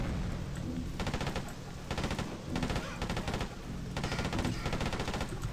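An automatic gun in the Freedom Fighters video game fires in repeated rapid bursts with short gaps between them, a loud, rhythmic rattle from a weapon with heavy recoil.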